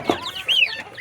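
Rhode Island Red hybrid chickens crossed with Iron Simani cluck in a short burst, a close, clear hen call rising and falling over about a second with no talk.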